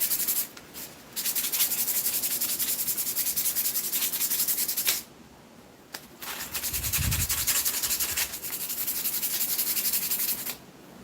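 Close, continuous sanding strokes on masks rasp in long stretches, stopping twice for short breaks before resuming at the same steady, gritty intensity.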